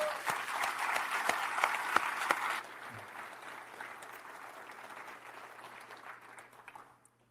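A webinar session audience at a historical disclosure event breaks into a round of applause, dense and steady at first, then dropping to a softer patter before fading away to silence.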